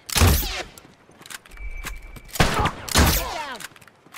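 Rifle gunfire in The Last of Us: three sharp, loud shots spaced about a second apart, each with a short ringing tail. Softer thumps fall between them.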